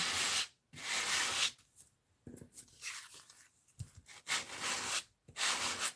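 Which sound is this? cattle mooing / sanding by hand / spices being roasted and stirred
sanding by hand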